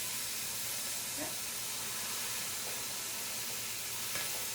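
Ground beef sizzles and hisses steadily as it browns in a pan, a dense, even frying sound with a few faint clicks of stirring.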